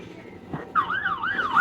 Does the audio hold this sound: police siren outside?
yes